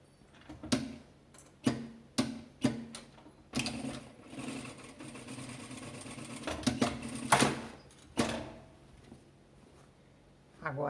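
A sewing machine stitches fabric scraps for a small organizer basket in short, close bursts of rapid mechanical clatter separated by pauses, with a faint voice at times between runs.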